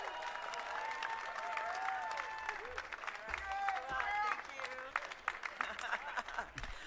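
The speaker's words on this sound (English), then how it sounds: "loudest, rowdiest crowd we've ever had for Chris Hemsworth" Large outdoor crowd applauding and cheering at Chris Hemsworth's Hollywood Walk of Fame star ceremony, sustained dense clapping with whoops and shouts throughout, loud and continuous from start to finish.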